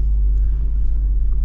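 A Jeep Wrangler Rubicon 392 crawls up a rock ledge in first gear, its engine a steady, loud, deep rumble heard from inside the vehicle without a break.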